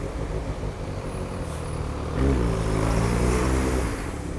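A large diesel bus engine idles nearby at night in a city, then its low rumble rises and swells as the bus revs, loud and steady throughout.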